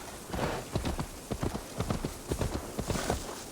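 Horse hooves clip-clopping in Assassin's Creed Valhalla, a steady run of close, loud hoofbeats with a rhythmic gait and no talking over them.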